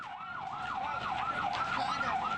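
A fire engine siren wails in a steady rising and falling cycle at a blaze that swept through market kiosks, loud and continuous with traffic rumbling underneath.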